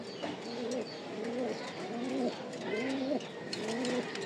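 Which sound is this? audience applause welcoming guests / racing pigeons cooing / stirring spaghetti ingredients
racing pigeons cooing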